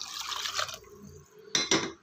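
Water poured into sambar in a cooking pot, a soft liquid gurgle followed by a pause and two short splashy bursts, quiet and close.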